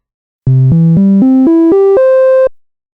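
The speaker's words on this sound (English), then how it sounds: "A triangle wave, which has a more restrained sound." A mellow, softer triangle-wave synthesizer tone steps upward through seven notes in an even ascending scale, played alone at steady volume and cut off cleanly.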